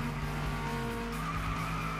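A car in FlatOut Ultimate Carnage skids with a sustained tire squeal over a steady droning engine, loud and close for the whole moment.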